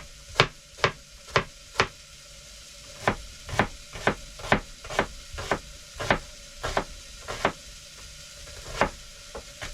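A knife chops half an onion finely on a board, making a sharp, regular series of close taps in quick bursts with brief pauses between them, alone without speech.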